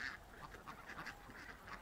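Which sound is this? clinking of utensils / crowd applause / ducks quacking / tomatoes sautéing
ducks quacking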